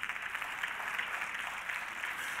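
An audience claps at a talk on race and history, a steady, dense patter of applause heard at a moderate distance with no voices over it.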